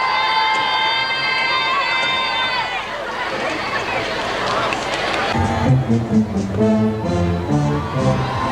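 Flag-waving crowds in Paisley cheer and shout for the Queen in a loud, sustained roar of many voices, children's shrill calls among them, before a brass band starts playing.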